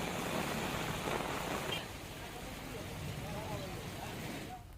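Heavy monsoon rain pours down in Raval village, Kalyanpur taluka, Dwarka district, as a dense, steady wash of noise that is loudest for the first two seconds and then settles into a softer continuous hiss.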